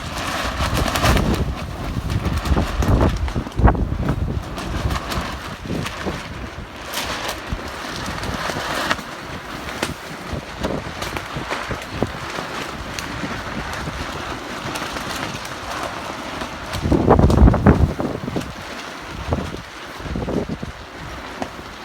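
Strong wind gusts roar across a farm in Panama during the windy season, buffeting the microphone with steady rumbling noise and louder surges near the end, with no voices heard.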